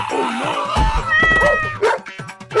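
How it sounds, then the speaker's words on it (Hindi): A dog barks and yips at cats, which answer with meows and yowls, the animals close and loud in a quick, overlapping scuffle with no talk. "डॉगी रुक जाओ, प्यारी बिल्लियों को कुछ मत करना।"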